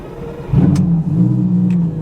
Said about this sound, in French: Attendez, je vais la démarrer, vous allez entendre un peu le son.